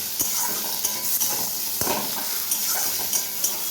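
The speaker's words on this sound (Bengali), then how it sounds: "লঙ্কা পেঁয়াজটা বাজাবো তারপর মশলা দিয়ে" Chili and onion fry in a pan over a strong gas flame, a continuous close sizzle broken by a few sharp scrapes and clinks of a spatula stirring against the pan.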